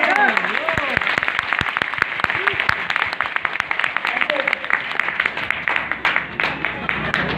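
An audience applauding a speech at a gathering in Gopalganj, Bihar, with sustained rapid clapping from many hands, fairly close and loud, mixed with scattered voices and a speaking voice near the start.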